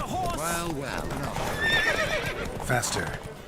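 Horses whinny and gallop with rapid hoofbeats during a race in the video game The Witcher 3, close and busy, with shouting voices mixed in over the pounding hooves.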